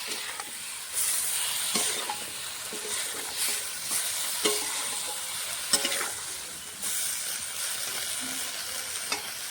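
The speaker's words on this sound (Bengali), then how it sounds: "মশলাটা সবজির সঙ্গে কষিয়ে নেব।" Mixed vegetables with coriander powder and chilli powder stir-fried in a pan, a steady sizzle broken by repeated scraping and clinking strokes of the spatula, close and alone without speech.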